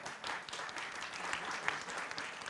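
Audience applause at a national humour award ceremony, a steady wash of clapping heard at a modest distance with no voices over it.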